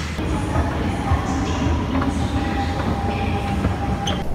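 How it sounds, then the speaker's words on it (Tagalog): Steady rumble and rattle inside a moving MRT metro train in the Philippines, with a constant low roar, faint clicks and a thin high whine throughout. "So, ayan, sa loob na ako ng MRT."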